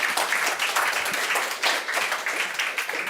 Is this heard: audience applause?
yes